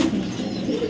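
A racing pigeon gives a soft, low cooing close by, a brief murmuring call with nothing else around it.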